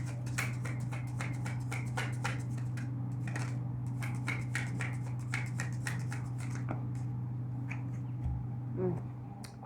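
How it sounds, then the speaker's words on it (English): Close, rapid flicks and riffles of tarot cards being shuffled by hand, in two bursts separated by a brief pause, over a low steady hum, then a few softer handling sounds. "I'm giving it one last shuffle and I'll pull."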